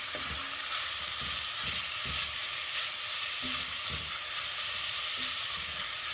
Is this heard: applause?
no